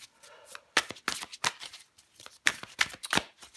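Tarot cards get shuffled and drawn: crisp flicking and slapping bursts, about eight quick riffles and snaps in an irregular rhythm, close and otherwise quiet.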